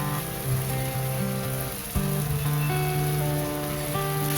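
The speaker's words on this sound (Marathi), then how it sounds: "छान परतून घेऊया मसाले" Spice paste of garlic, soaked red chillies and crushed kasuri methi sizzles while being sautéed in a pan for pav bhaji; a steady, close hiss runs throughout, with a brief stir-like knock about halfway.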